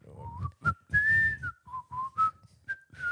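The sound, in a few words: whistling a song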